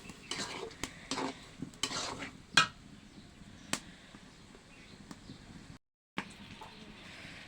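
Rice, chopped onion and ginger are stirred and fried in a pot for chicken khichuri, with soft sizzling under sharp intermittent clinks and scrapes of a spoon against the pot, fairly quiet overall with a short silent break.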